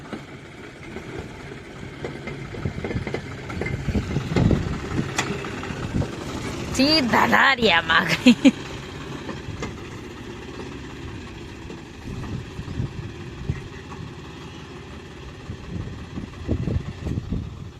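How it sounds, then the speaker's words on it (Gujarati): A tractor engine idling and rumbling close by as it arrives at a farm home in the evening, steady low chugging with a brief louder burst, under people talking. "હાલ આપણે ટ્રેક્ટર વાળા આવી ગયા."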